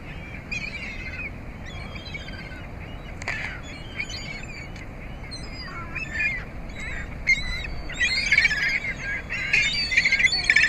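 Seagulls squawk in a busy, overlapping chorus while being fed apples, the harsh calls coming in quick bursts that grow louder and denser toward the end, with no voices.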